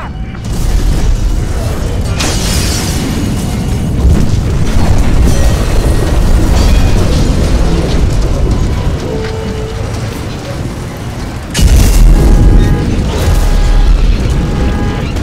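Grenade explosions in the video game Battlefield Hardline: loud booming blasts and rumbling detonations, with a strong burst near the end, amid continuous game noise and a little shouted speech.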